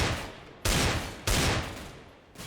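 Two sharp AK rifle shots crack out close and loud in Counter-Strike on the Dust 2 map, each leaving a long decaying tail that fades before the next.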